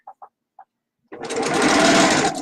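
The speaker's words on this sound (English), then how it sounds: "I can't sew too fast or it shakes the camera, as you just saw. I have a workhorse of a machine that goes very fast." A fast, heavy-duty sewing machine runs in a steady, loud whir as fabric pieces feed through, following three short soft knocks at the start.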